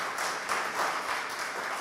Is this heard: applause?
yes